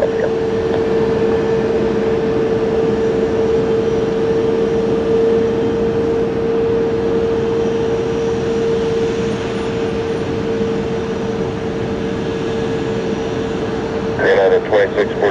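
Jet airliner at Tampa International Airport, a United flight on runway 1 left, rolling for takeoff: a steady, loud engine roar with a sustained whine held throughout, and a brief clatter near the end.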